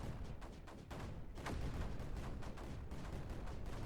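Mortars fire in the Creeper World 4 strategy game, a rapid run of overlapping muffled booms and thumps that comes through faint and low, with no talking.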